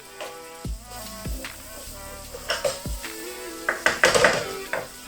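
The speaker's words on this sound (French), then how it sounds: "Fais sauter les légumes." Vegetables sauté in a pan with soft sizzling, broken by several sharp clanks of a utensil against cookware and scraping stirs that grow busier toward the end, close by with no talk.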